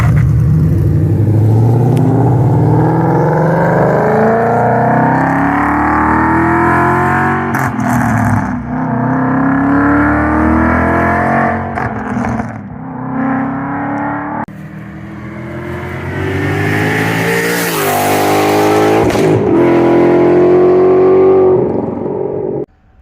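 The engine of a supercharged 2014 Ford Mustang with a Coyote V8 revs loud and close. A steady, heavy rumble climbs and falls across repeated throttle blips, holding a thick, continuous drone throughout with no voices.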